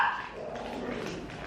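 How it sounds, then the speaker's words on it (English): A pet dog barks or yips once at the start, fairly close, then fades into a soft whimpering under low background noise indoors. "Yeah, please stop barking. Be quiet."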